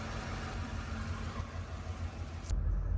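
A Ford E4OD 4x4 campervan's IDI diesel engine idles steadily, a continuous low rumble held near and even for the whole stretch, swelling slightly louder in the last half second.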